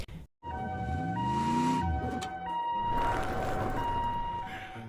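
A wailing ambulance siren arrives in an anime scene, loud and close, its rising and falling tone sweeping over steady vehicle noise.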